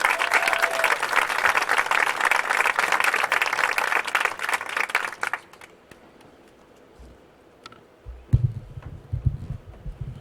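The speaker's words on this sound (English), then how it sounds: "Let's give a round of applause to our boys team." Applause for the boys team at a high school varsity sports awards ceremony, a thick crowd clapping for about five seconds before fading to a quiet room with scattered sounds.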